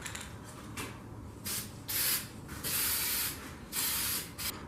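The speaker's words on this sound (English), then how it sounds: "Alright, I sprayed a coat over." Matte black spray paint hisses from a can onto a 1965 Jeep CJ5 in several short, loud bursts of spray over a steady low background hum.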